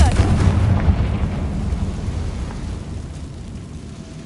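A heavy blasting explosion from a Confringo spell in Hogwarts Legacy opens with a deep, loud boom and rumbles away over several seconds, fading to a low roar.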